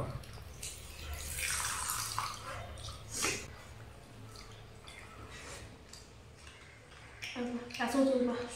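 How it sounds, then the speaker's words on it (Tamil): Rasam is poured into mutton gravy, giving a gentle liquid splashing and dripping at close range while a person talks over it. "இந்த மட்டன் கிரேவியில் கொஞ்சம் ரசம் ஊற்றிக்கணும்"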